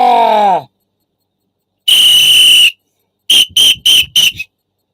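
Shrill whistle blasts: one long sustained blow followed by a quick series of five short bursts, loud and close, after a brief groaning vocal sound at the start.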